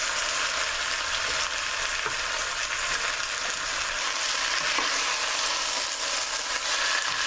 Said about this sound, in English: you want to make sure that you keep stirring them as they browning because you don't want them to burn